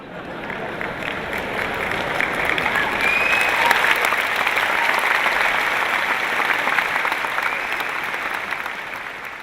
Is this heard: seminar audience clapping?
yes